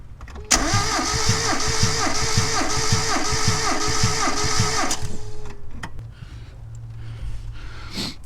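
A car engine cranks over on the starter during a compression test, giving a rapid rhythmic chug of about ten even pulses with a whine over them, then stopping and leaving a low background hum.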